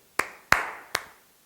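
Three sharp, separate hand claps from an audience, close and fairly loud with short decays, sparse and uneven rather than a sustained applause.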